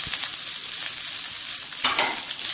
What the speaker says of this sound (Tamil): கொத்தமல்லி இலையெல்லாம் நல்லா சுருண்டு வர அளவுக்கு வதக்கி விட்டுக்கலாம்.